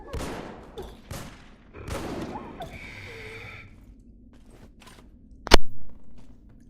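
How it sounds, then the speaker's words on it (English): Gunfire from characters shooting at enemies in the video game Krater: scattered soft shots over a quiet background, then one sharp, loud report near the end. "the moment the enemy got in range of my characters, they start shooting"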